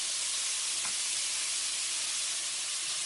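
Garlic and ginger added to pork in a hot pan for a pork and carrot stir-fry, producing a loud, steady broadband sizzle and hiss with no speech.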